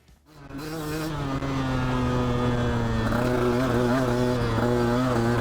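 A 2017 Husqvarna TE150 dirt bike with a Lectron carburetor starts up and settles into a steady, buzzing two-stroke idle with slight rev wobbles, close and loud, on a trail ride.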